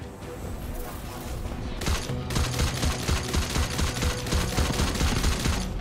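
Rapid automatic gunfire from the shooter game Synced rattles in fast, evenly spaced bursts, building after a brief quieter stretch into a steady, loud fusillade.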